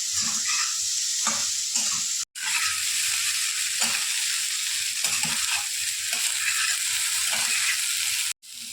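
Vegetables for masala pulao, including potato, sauté in a pan with a constant close sizzle, broken by repeated scraping stirs and two abrupt brief cuts to silence.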